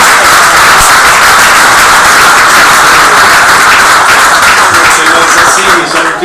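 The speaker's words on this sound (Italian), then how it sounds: "Fategli un applauso così prendiamo" Loud, sustained audience applause fills a room after a book presentation, a dense wash of clapping that stays steady throughout and fades slightly at the end.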